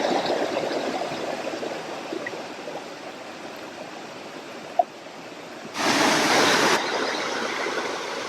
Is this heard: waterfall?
yes